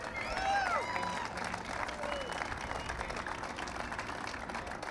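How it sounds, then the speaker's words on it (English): A large outdoor crowd applauds and cheers the New NY Bridge workers at a presidential visit in New York, with steady clapping throughout and a few whistles rising over it near the start. "so let's give them another round of applause"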